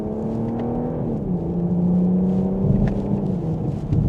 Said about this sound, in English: And a mild acceleration, we're up to speed